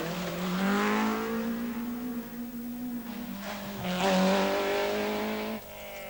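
Rally cars race along a road stage of the 1984 Circuit of Ireland Rally. Loud engines rise and fall in pitch as the cars pass close by, with a tyre squeal and a second car surging in near the end.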